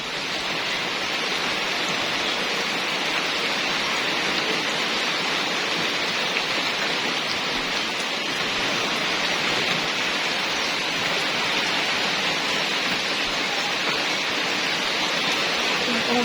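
Heavy rain pours down beside a swelling creek, a dense, even hiss that stays constant and loud with no pauses.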